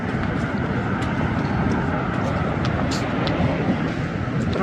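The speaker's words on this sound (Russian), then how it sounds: "Проходит поезд, ну, метро, наверное, по этому мосту." A London metro train rumbles over a bridge, a steady low roar and clatter heard from nearby street level that holds throughout, mixed with traffic noise and a few faint higher squeaks.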